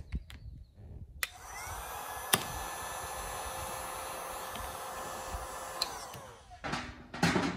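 A heat gun warming carbon fiber wrap on a car's gas cap, a steady whirring blower hum lasting several seconds with a few faint clicks, then switching off.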